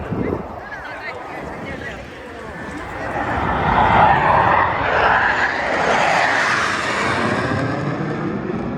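US Air Force Thunderbirds jets at the 2024 Columbus Air Show give a broad, rising roar that swells near the middle as they pass, with people talking over it.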